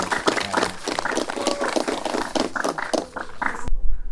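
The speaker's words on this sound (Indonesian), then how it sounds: "Kita beri tepuk tangan kepada mereka." A crowd claps at a school event in Takengon, Aceh, dense applause with scattered louder hand claps running throughout before cutting off abruptly near the end.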